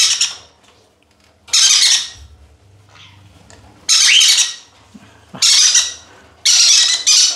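Small young conure chicks give loud, harsh squawks in close bursts of about a second each, five separate outbursts separated by quiet gaps.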